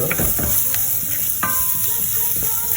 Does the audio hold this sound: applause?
no